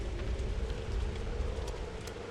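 Rain falls in the video game Pathologic 2, a soft, steady patter with a low rumble beneath it, faint and unbroken throughout.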